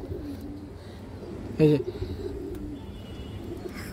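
Pigeons coo faintly in the background with low, soft murmurs while someone briefly speaks close by midway through.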